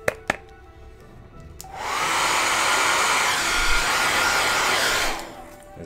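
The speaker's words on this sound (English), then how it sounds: "I might just give this a quick hairdryer warning" A hairdryer blows on a watercolour sketchbook page: after a couple of small knocks it switches on into a loud, steady, close whoosh for about three seconds, then cuts off.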